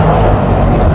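Trabant car engine running while driving, a loud, rough, continuous low drone with buzzy mid tones, heard close up and steady for the full second.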